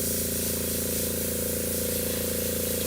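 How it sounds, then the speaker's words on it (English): An airbrush spray gun sprays paint onto a scale model, making a continuous broad hiss over a steady low compressor hum, close and unbroken for the whole stretch. "I'm trying to get a controlled spray."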